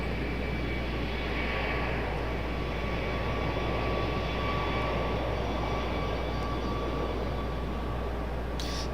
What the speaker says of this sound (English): Got that United getting ready to depart